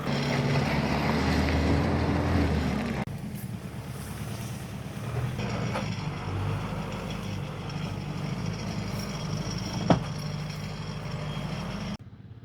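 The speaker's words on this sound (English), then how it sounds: "It's a great tractor." Tractor engine running in an orchard, a steady low mechanical drone heard close by, with a shift in tone partway through and wind buffeting the microphone.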